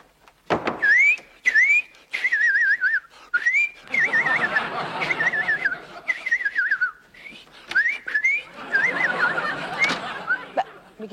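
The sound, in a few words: man whistling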